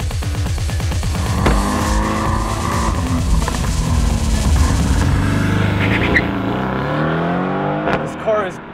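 A new Mercedes-AMG drives hard around Vancouver Island Motorsports Circuit, its engine revving up and down through gear changes with brief tire squeal, loud and close, while people talk over it.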